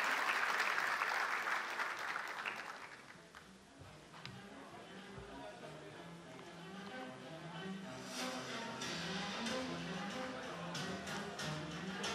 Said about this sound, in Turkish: TGSP yönetim kurulu üyelerini alkışlarınızla sahneye davet ediyorum.